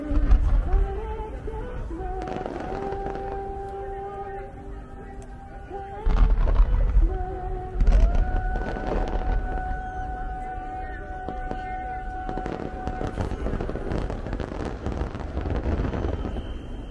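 The grand finale of the Adachi fireworks festival on the Arakawa riverbank in Tokyo, 2023, with heavy booming bursts and crackling volleys over orchestral music, loud explosions landing repeatedly around 6 and 8 seconds amid sustained rumble.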